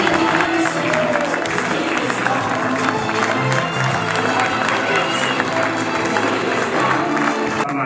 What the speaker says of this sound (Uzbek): Biroz olqishlaringiz.